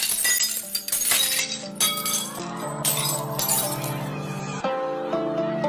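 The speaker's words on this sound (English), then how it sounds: "all the energy in the sound of the singer's voice is transferred to the glass, and it shatters." Glass shatters under a singer's sustained voice resonance: bright, dense tinkling and breaking crashes ring out over several seconds, loud and close, with a held tonal note underneath and a fresh burst of clinking near the end.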